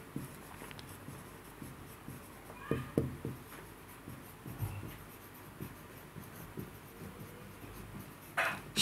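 A pen writing an accounting entry on paper, close and quiet: short irregular scratches and taps in bursts, with faint room noise between them.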